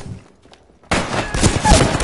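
A sudden burst of rapid gunfire in Apex Legends erupts after a near-silent pause and rattles on loudly to the end.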